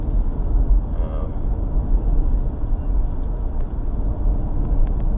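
Inside a moving 2019 Ford Fusion Hybrid Energi, a steady low road rumble and cabin drone fills the space at even level, with faint ticks and no clear talk.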